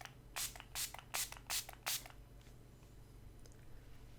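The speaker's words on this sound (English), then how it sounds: "spray on a fine mist to kind of redampen my skin" Five quick hissing spritzes of a fine facial mist spray onto skin in an even rhythm, close and crisp, followed by quiet.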